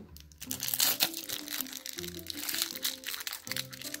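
Crinkling, crunching plastic toy packaging being cut with scissors and handled up close, continuous rustling with small snaps throughout.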